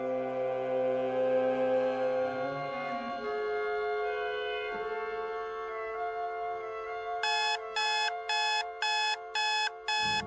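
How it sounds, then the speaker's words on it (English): Alarm clock going off in a radio drama scene, its regular bursts of ringing beeps cutting in clearly over a sustained musical tone. "Oh, forgot to turn the blasted alarm off."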